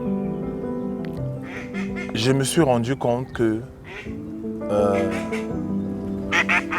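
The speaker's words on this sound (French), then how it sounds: "il y a des canards qui passent, c'est beau." Ducks quack as they pass by outdoors, a short run of nasal calls mixed in with a person's talking nearby.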